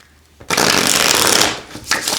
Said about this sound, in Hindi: मैं एक्चुअल में दूसरी तरीके से शफल करना चाहूँगी।